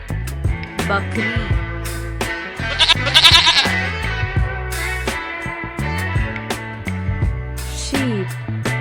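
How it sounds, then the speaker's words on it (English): A goat bleats repeatedly, loud and close, the wavering cries following one another with short gaps and no talking. "Goat"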